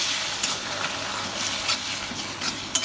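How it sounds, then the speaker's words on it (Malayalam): Gravy being stirred in a pan with hot water added, a steady wet bubbling and sizzling texture with soft scraping strokes and a small clack near the end. "നന്നായിട്ട് ഇളക്കുക"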